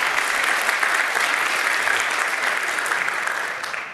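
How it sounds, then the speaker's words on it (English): An audience at a DENOG16 network operators' conference applauds a speaker coming on stage, a steady wash of many clapping hands that holds evenly and then tapers off toward the end. "please welcome him with another warm applause here on stage"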